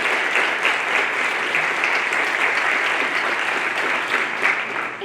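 A school board meeting audience gives steady, loud applause for the standing directors, a sustained wall of clapping from many hands that carries on evenly without a break.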